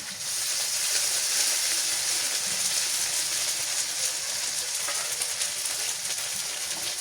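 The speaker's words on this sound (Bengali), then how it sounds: "মশলাটা কষানো হয়ে গেছে" Garlic and spice paste fries in a pan, giving a steady loud sizzle and hiss that continues without a break, with faint stirring scrapes and no voices.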